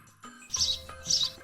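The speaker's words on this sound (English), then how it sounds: "It's a cute little chick." A baby chick gives two short, high, bright chirps, each close to the listener and separated by a brief pause, with no voices.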